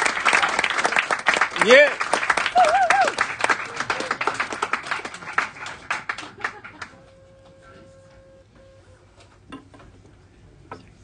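Jazz club audience applauding the drummer, dense clapping and cheers for several seconds with someone talking over it, then thinning out to scattered claps.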